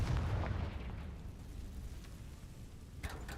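A Confringo spell explosion in the video game Hogwarts Legacy, a deep booming burst that opens loud and rumbles away, followed by a second sharper blast near the end.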